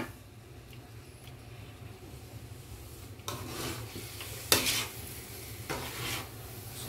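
Sticky rice biko cooked down with coconut milk is stirred in a pot, a steady soft scraping and rubbing that grows louder and busier partway through, with faint sizzling and a sharp clink near the end.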